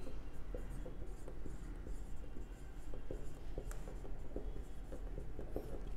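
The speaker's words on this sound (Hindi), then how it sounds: "तो यहाँ पे लिखेंगे" Pen scratches on paper during a maths probability lesson, quick faint strokes and taps in an irregular rhythm over a low steady background hum, close by, with no talking.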